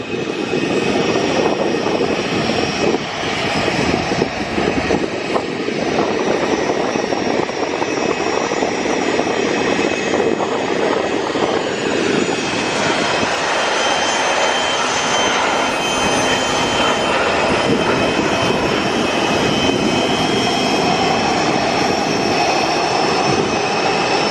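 A Ryanair Boeing 737-800 jet takes off at Luton Airport on a summer evening, a loud, sustained engine roar and broadband rumble filling the air without a break.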